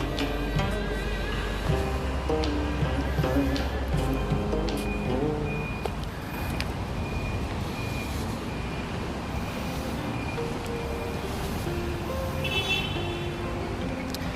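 Street traffic in China on a rainy day, with a steady roar of passing cars and buses, beeping tones and at least one horn toot standing out over the continuous road noise.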